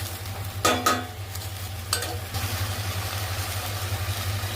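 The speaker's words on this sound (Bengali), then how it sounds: "হালকাভাবে ফ্রাই করে নেব।" Sweet corn lightly fried with chicken for soup scrapes and clatters in a pan in a few quick stirs over a low, steady hum, sizzling softly throughout.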